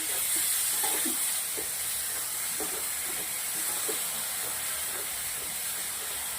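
Yogurt and a spice mixture go into a hot pan for a taro (arbi) curry and are mixed in, producing a loud, continuous sizzling hiss with faint soft stirring knocks underneath.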